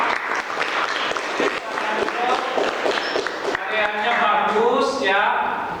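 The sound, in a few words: classroom applause for a student group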